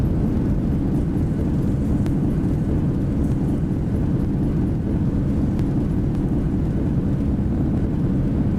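Boeing 737 (Zibo mod) in a flight simulator game, landing at Antalya with thrust reversers deployed: a loud, steady, broadband engine roar fills the whole stretch without letting up.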